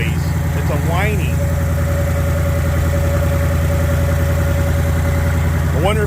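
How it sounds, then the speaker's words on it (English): A race truck engine with a Whipple supercharger idles steadily and loudly, a low, even rumble with a faint high whine running through it, while people talk briefly over the top. "Listen to that Whipple. I can hear a little bit of that whining noise."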